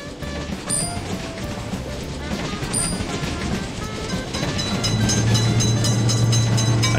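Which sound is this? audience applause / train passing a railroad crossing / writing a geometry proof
train passing a railroad crossing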